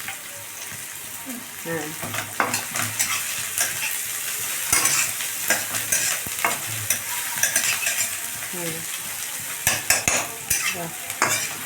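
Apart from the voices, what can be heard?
stirring and frying food in a pan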